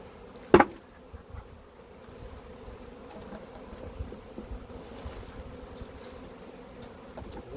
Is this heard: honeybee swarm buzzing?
yes